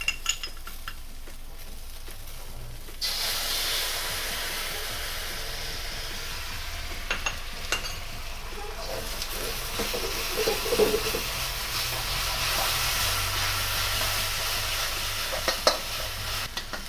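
Sauce hits a hot pan of onions in a vegetarian beef chow fun stir fry and erupts into a loud, steady sizzle that sustains to the end, with occasional clinks of a utensil stirring.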